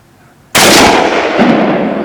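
A single loud hunting rifle shot fired at a deer outdoors, a sudden sharp blast followed by a long rolling echo that decays slowly over more than a second.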